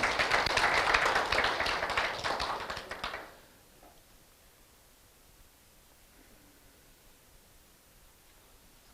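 Seminar audience at a Lions leadership academy lecture clapping in approval, a loud burst of applause for about three seconds that stops abruptly into quiet room tone.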